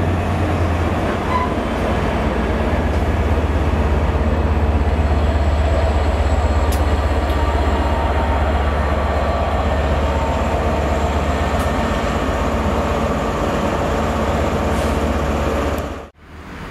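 A Class 66 diesel locomotive rolls past near Cardiff with a loud, sustained low rumble and wheel noise. It keeps up a steady roar for about sixteen seconds, then cuts off abruptly at the end.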